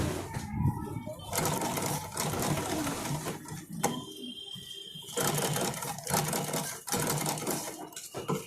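A Brother domestic sewing machine running and stitching, a quick mechanical whirring chatter that starts and stops in short runs, close and moderately loud, with brief pauses between bursts.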